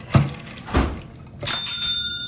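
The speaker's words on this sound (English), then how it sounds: "they never heard the bell before" A hand bell rung to announce a ready order sounds after a couple of thumping knocks, giving a bright ringing ding with a long, sustained metallic decay close by.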